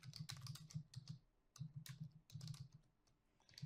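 Free-form typing on a computer keyboard, quick rhythmic clusters of soft key clicks in short bursts with brief pauses, faint and close, no talk.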